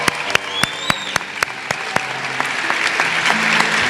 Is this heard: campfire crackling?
no